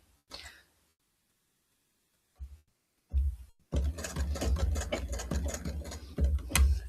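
A sewing machine stitching a corset seam, starting with a few short bursts and pauses, then running steadily with fast, even, close-up mechanical chatter.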